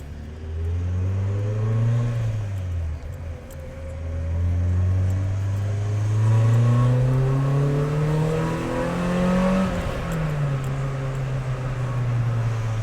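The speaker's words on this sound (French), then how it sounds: "si tu joues du double embrayage, c'est encore plus drôle" A car engine revs up and down in long swelling sweeps while the driver double-clutches through gear changes, loud and close, with no talk.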